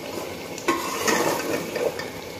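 Meat curry (salan) with tomatoes is stirred and fried in a pot up close, with a utensil scraping and clanking against the metal over a soft sizzle.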